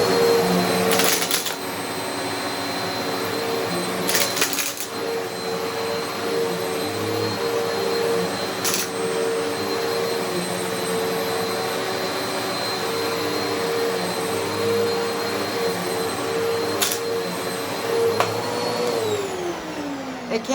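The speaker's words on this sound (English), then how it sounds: "It can't really suck up anything heavy. It can only do, like main dirt." A vacuum cleaner drones steadily and loudly up close while sucking debris from an old, long-unvacuumed carpet, with occasional rattling clicks of grit pulled into the hose and a slight pitch shift near the end; no talking.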